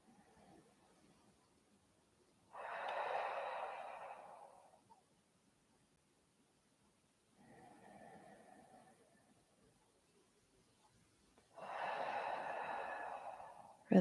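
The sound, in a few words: person taking slow deep breaths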